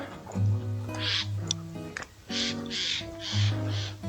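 Several harsh caws from a crow ring out at close range beside cornfields, spaced irregularly over a few seconds, with faint background voices.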